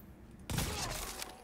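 A single sharp gunshot from a weapon in Tom Clancy's The Division Dark Zone, a sudden loud crack after near-quiet, followed by a decaying echoing tail.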